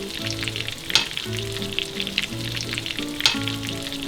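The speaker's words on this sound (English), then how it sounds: "we're gonna add just the onions and the mushrooms right now" Onions and mushrooms sizzle steadily in a pan, a close, even crackle with occasional stirring clinks and a low electric hum running underneath.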